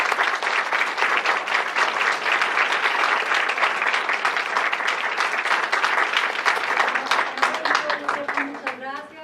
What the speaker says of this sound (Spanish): Primero que nada, un aplauso para